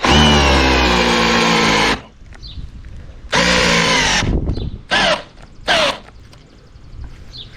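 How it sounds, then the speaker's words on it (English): A power drill driving into a wooden 4x4 fence post whirs loudly for about two seconds, stops, then runs again in a longer burst followed by two short bursts, with quiet gaps between. "this drill is not built for this."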